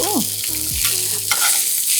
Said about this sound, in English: Let's hope we get a good sizzle. Yes, that's what I like to hear.